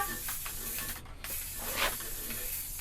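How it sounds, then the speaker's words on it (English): Spray paint goes on as a light mist coat over a Hein Werner floor jack, a steady close hiss that breaks off briefly partway and then resumes. "one of the best things you can do is a mist coat like this"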